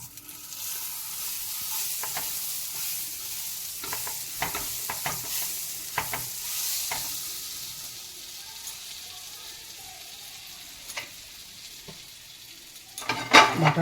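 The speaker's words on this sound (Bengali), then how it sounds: "এর ভিতরে আমি এবার ভাজবো বাটারটা দিয়ে দেবো আগে" Kebabs sizzle and fry in butter in a pan, a steady close hiss broken by short scraping stirs and clinks from a ladle, with a sharper clatter near the end and no talking.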